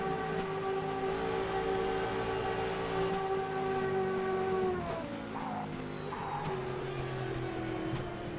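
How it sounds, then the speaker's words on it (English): Historic sportscar in an online racing game, its engine note holding a steady high drone and then dropping through quick downshifts, with a second car's engine audible nearby. "Downshifts on that car."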